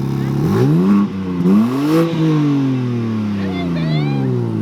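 A Ferrari 458 Spider engine revs hard, loud and close, its pitch climbing in a couple of strong swells before settling into a high, sustained roar.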